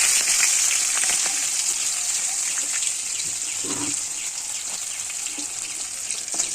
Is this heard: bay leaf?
yes